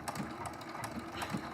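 A quilting sewing machine works through a quilt-as-you-go block, making a short, quiet, rapid mechanical patter of needle strokes with faint rhythmic clicks.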